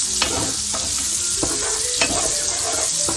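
Onions fry in a pan with a steady, close sizzle, punctuated by several distinct scrapes and knocks of a utensil as they are stirred, and no one talks.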